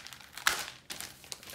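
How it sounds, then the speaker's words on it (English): Packing tape on a sealed tabletop football game box is broken open with two short bursts of crinkling, tearing plastic, close and crisp, separated by a brief pause. "I'm going to break the tape for you."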